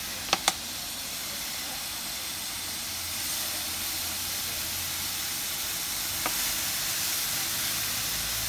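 Water is poured in a steady hissing stream to mix cement for an atlas stone, running continuously for several seconds after a couple of sharp clicks at the start.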